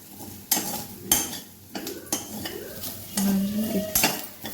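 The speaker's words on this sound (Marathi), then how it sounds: "छान असं भाजून घेते खोबरं" Grated coconut dry-roasting in a pan while being stirred, with repeated metallic scrapes and clinks of a spoon against the pan, close and fairly loud between quieter stretches, no talk.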